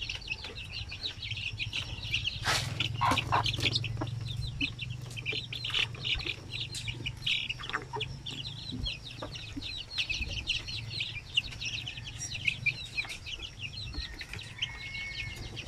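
Young chicks chirp and cheep repeatedly in a coop, with clucking fowl and occasional wing flaps mixed in. The sounds overlap in a busy, fairly close chorus.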